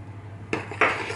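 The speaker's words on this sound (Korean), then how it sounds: "그냥 마구마구 저어주세요." Flour, salt and water dough stirred in a bowl for a baguette, two short bursts of utensil scraping and clinking against the bowl, fairly close, with no talking.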